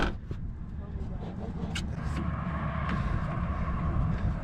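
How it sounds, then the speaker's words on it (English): A car engine idling as it warms up before an overland drive toward the Yukon, a low steady rumble heard from close by with faint clicks and movement, no talk over it. "Can I start the car? Yeah. I just want it to start warming up."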